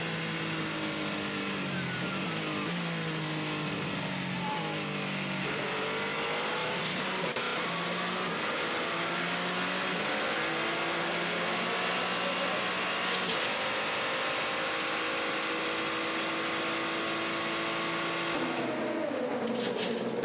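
Onboard a Le Mans prototype race car at speed, the engine drones loudly and steadily, its pitch rising through the gears with brief shifts. Near and continuous, with no talking.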